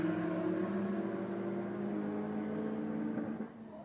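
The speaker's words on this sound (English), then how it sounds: "The Corolla, no slouch, and the VL drove on around." A Toyota Corolla and a Holden VL accelerate hard side by side in a roll race, their engines droning steadily at a moderate distance before the sound drops away at the end.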